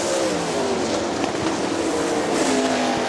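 Sprint race cars roar around Hartford Speedway in a Great Lakes Outlaw Sprint Series race, engines droning loud and continuous with rising and falling pitch as the pack passes, tires squealing briefly.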